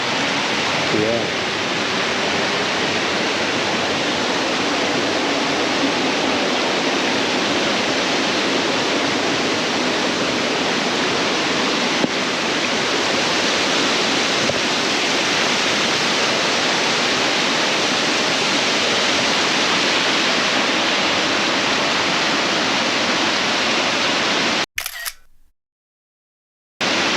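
A loud, constant roar of rushing water from a waterfall up close in Plitvice Lakes National Park, steady broadband noise that cuts off abruptly near the end.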